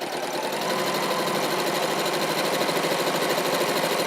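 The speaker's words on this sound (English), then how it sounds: "I'll sew those, and then I'll bring the next pair across" A sewing machine runs at a steady, fast clatter while stitching strips of quilt fabric, a dense continuous whir with no talking over it.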